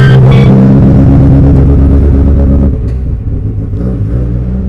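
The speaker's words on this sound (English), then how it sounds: "I think the banger car is coming in" A banger race car drives into a yard, its engine revving loud and close with a heavy rumble, then dropping to a lower, rougher idle.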